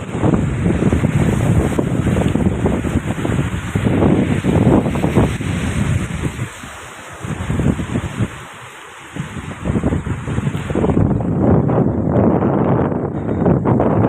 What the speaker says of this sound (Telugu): గాలి ఎంత బలంగా వేస్తుందంటే నేను ఎదురు కూడా నడవలేకపోతున్నాను